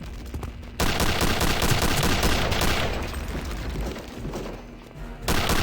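Rapid gunfire rings out in a World War II-style shooter as enemy paratroopers are shot and a gas tank is targeted, a dense, loud barrage of shots with heavy thumps, breaking off briefly before resuming.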